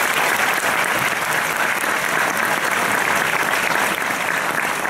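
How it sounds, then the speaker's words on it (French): Sustained, dense applause from a live audience fills the room, steady and loud throughout with no break. "On peut l'applaudir."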